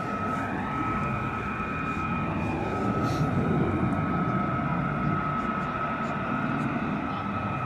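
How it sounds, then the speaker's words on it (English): US Air Force F-35 jets approaching over RAF Lakenheath, a steady jet roar with a whining engine tone that swells slightly in the middle, while people talk faintly nearby. "Some more F-35s coming at us"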